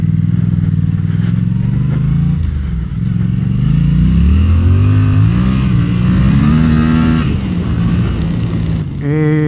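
A Yamaha MT-07 motorcycle engine on a test ride, loud and close, with the revs rising and falling through gear changes and a strong throbbing exhaust note that climbs sharply at the end.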